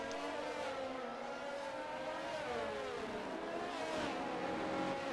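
Race cars in a racing video game setting off on the formation lap at Bahrain, engines droning and rising in pitch as they accelerate together, fairly quiet and steady with several overlapping motors.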